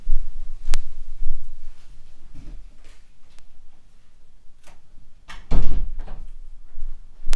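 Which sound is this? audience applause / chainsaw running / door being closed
door being closed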